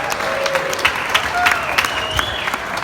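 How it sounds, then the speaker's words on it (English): A round of applause from wedding guests during a best man speech, moderately loud scattered clapping with some crowd noise and a faint voice beneath it. "We give a round of applause real quick."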